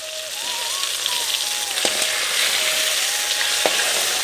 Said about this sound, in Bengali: এগুলোই ভেজে নেব